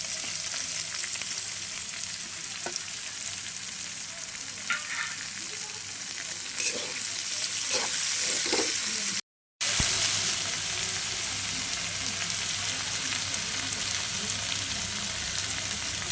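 Chopped onion and capsicum sizzle in a hot pan for a baby corn chowmein, a loud, continuous frying hiss with occasional stirring scrapes and a very brief dropout midway.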